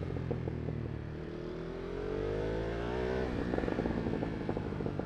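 Ducati Monster V2 motorcycle engine revving up, rising in pitch and then settling into a throbbing, loud idle-to-throttle burble close by, with no talk.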